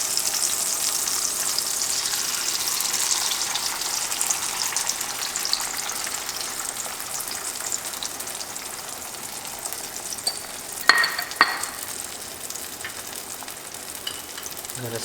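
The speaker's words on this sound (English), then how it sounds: "I'm now going to add my egg mixture." Egg mixture for a tomato and cheese omelette sizzles in a pan, a steady hissing fry that holds throughout, with a couple of brief scraping knocks near the end.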